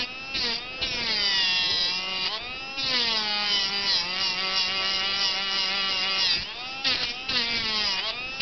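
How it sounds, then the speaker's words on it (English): Dremel rotary tool fitted with a steel wire brush, whining at high speed against an old Nintendo game cartridge's contacts, its pitch dipping and rising as it bears on the metal, steady and close with brief pauses. "very important when you're using the Dremel, don't force it in there"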